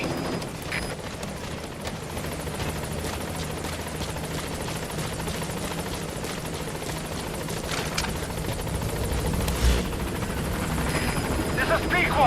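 Helicopter approaching a landing zone in Metal Gear Solid V: The Phantom Pain, a steady rotor thrum and turbine whine that holds loud and grows slightly nearer, with game gunfire and effects mixed in.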